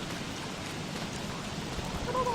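Steady rain falling in the Don't Starve video game, a dense even hiss of drops with no talk.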